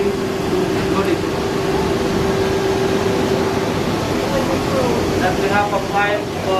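Automatic laundry dryers running in a cruise ship laundry room, a steady loud mechanical drone with a constant hum that fills the space throughout.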